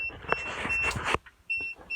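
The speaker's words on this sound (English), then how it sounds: "now you get to hear that nasty, annoying, freaking alarm" Inside a vintage camper, an alarm tied to a Natures Generator gives off high, piercing electronic beeps in short repeated bursts, standing out loud and near over rustling movement.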